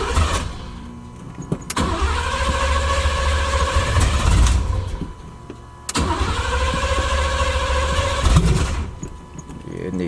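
A Chevy box car engine cranks and catches twice, each start rising into a loud close idle roar that then drops off, with brief voices around it.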